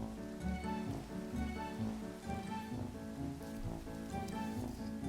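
Steady rain patters continuously in Minecraft alongside looping melodic game music, with no voices.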